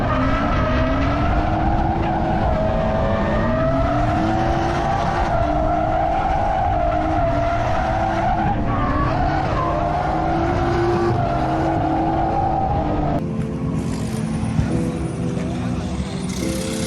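A BMW M240i drifts, its engine droning at high revs while tires squeal in long, wavering tones close by, the pitch rising and falling through the slide before the engine note shifts near the end.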